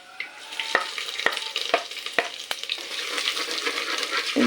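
Ginger hitting hot oil with fenugreek, a close crackling sizzle punctuated by sharp clinks of a spoon stirring against the pan, with a few more clatters near the end and no voices.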